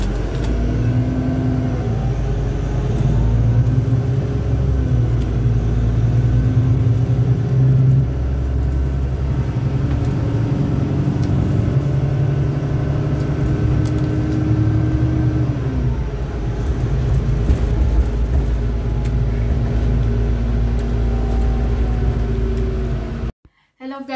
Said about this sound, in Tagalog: Nandito na tayo sa bus guys.